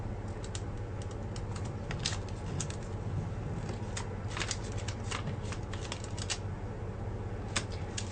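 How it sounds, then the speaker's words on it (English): Paper being creased and folded for origami, giving a steady run of soft crisp crackles and light taps, close and fairly quiet, with no talking. "Fold from the bottom tip to the center crease that we just made."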